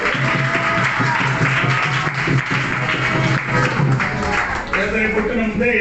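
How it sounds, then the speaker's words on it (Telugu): A church congregation at a Telugu sermon claps steadily to praise God, a dense, loud wall of applause with voices mixed in throughout. "అందుకని రాత్రి చప్పట్లు కొట్టి ఒక్కసారి దేవునికి స్తోత్రం చెప్పండి."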